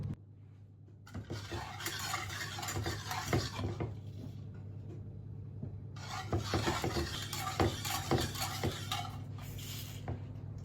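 A spoon scrapes and knocks around a pot while a thickening mixture is stirred, bursts of clattering strokes separated by a quieter pause, with a steady low hum underneath.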